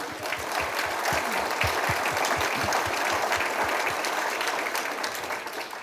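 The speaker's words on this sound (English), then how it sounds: "We have some applause for West Bend Mutual" Audience applause at an outdoor vineyard garden party fundraiser, steady dense clapping from a sizable crowd sustained throughout, close and even in level.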